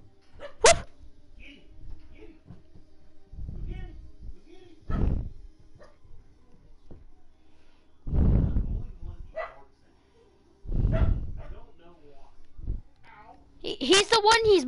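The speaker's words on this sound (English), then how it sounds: "My dog's barking the crap out of my friend." A dog barks indoors close by, a few loud separate barks spaced several seconds apart, with people talking in between and a brief higher yelp near the end.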